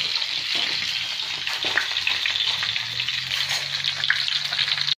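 Carp sizzling and frying in hot pork lard, a steady dense crackle that holds evenly at close range throughout, with no talking.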